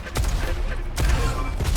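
Rocket launcher shots in the Diabotical arena shooter: two sharp, loud blasts about a second apart over a dense, continuous bed of game noise, close and punchy.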